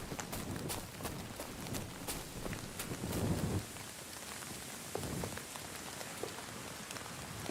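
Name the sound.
rain in video game Kingdom Come Deliverance 2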